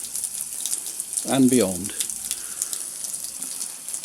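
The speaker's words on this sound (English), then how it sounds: "from that simple little tap run, water droplets are falling all the way over here" A water tap runs in a thin steady hiss with faint droplet spatter, continuous and fairly close, while a voice briefly speaks over it.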